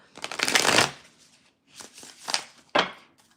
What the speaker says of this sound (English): I gotta shuffle for you again